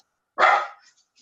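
One loud, close dog bark, barking at someone out back who is opening a pack of cigarettes, a single sharp burst that fades quickly into silence.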